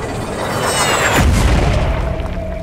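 A thumper drops from the sky and lands in the video game Firefall, a descending whistle followed by a heavy, deep boom and rumbling impact, loud and close, with no speech.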